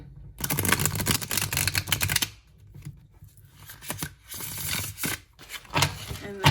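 Tarot cards are shuffled by hand in riffling bursts of crisp, rapid flutters, loud and close, with brief pauses between rounds.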